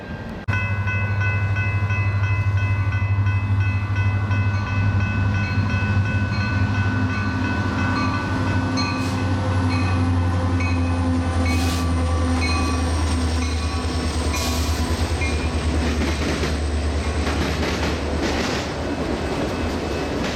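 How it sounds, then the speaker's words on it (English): A westbound Union Pacific auto rack freight train rolls past at close range, a loud, sustained low engine drone with steady wheel rumble and occasional clanks and squeals for the whole stretch, with no talk. "A westbound UP auto rack train scares me half to death."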